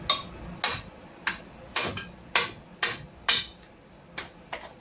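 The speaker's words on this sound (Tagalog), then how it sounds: "pwede na natin itong pupukin lang ng tornilyo, ng hammer" Hammer blows knocking out an old wheel bearing part on a Honda CR-V, about ten sharp metallic strikes at a steady, slightly slowing pace, close and loud with no talk.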